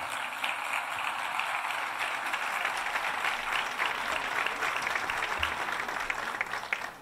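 An auditorium audience at a cultural awards gala in Málaga applauds in a steady, dense wash of many hands clapping that stays even and continuous throughout, with no one speaking over it.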